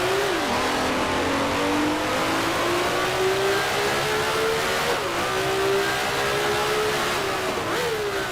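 A race car engine in the Grand Prix Legends sim holds a steady high drone, then blips and drops in pitch twice as it downshifts through the gears, loud and close with no talk.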